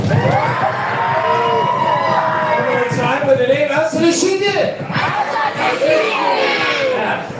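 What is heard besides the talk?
crowd stomping, banging and cheering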